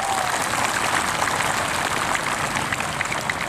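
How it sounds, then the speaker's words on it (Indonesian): Dense, steady applause from a large outdoor morning assembly of more than 5,000 participants at an election-supervisory event in Blitar, Indonesia, a continuous wash of many hands clapping without pause. "Tepuk tangan lagi."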